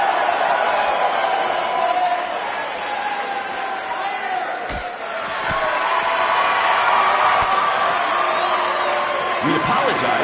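Crowd noise in the WWE 2K19 wrestling video game swells as a continuous arena roar with a brief dip midway and a few sharp impacts, loud and sustained.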